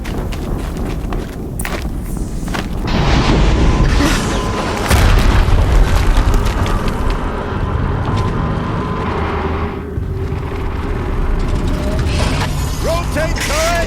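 Explosions in the video game Horizon Zero Dawn, loud booming blasts with heavy low rumble swelling in bursts amid continuous mechanical clanking and game noise throughout.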